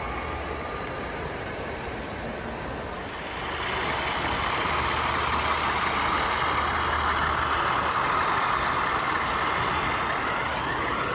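A Bowser RS3 model diesel locomotive's engine sound idles and then revs up, settling into a loud, steady throbbing roar with a faint high whine.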